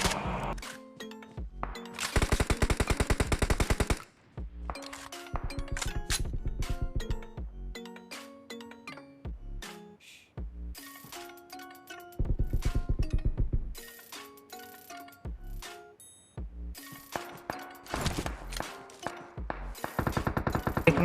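Gunfire in a multiplayer shooter video game: rapid bursts of automatic shots and single cracks come in clusters, mixed with clicking mechanical weapon sounds, fairly quiet overall with no talking.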